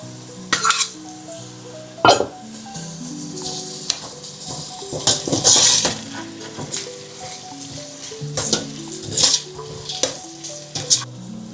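Chopped onion and garlic sizzle in oil in a pan for Porbandar-style pav ragda, a constant close hiss broken by repeated scraping stirs and metallic clinks of a spoon against the pan.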